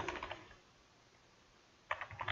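Quick bursts of computer keyboard typing, a short flurry of keystrokes, a pause of silence, then another brisk burst, close and alone.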